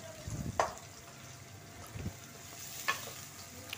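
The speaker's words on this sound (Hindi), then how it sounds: "मुसलसल में चमचा चला के इसे फ्राई कर रही हूँ" Finely chopped onions light-frying in oil in a kadhai, with a soft continuous sizzle and a spoon scraping and clinking against the pan in a few brief strokes.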